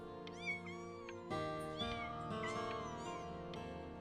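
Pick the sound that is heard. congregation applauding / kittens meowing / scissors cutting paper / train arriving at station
kittens meowing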